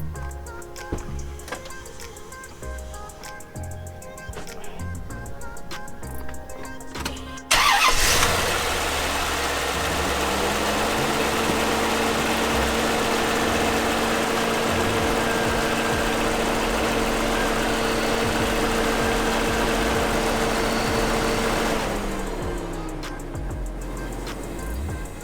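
A 1993 Chevrolet Corvette C4, just fitted with a new EGR valve, cranks and fires with a sudden loud catch, then settles into a steady, even idle that runs smoothly before cutting off near the end.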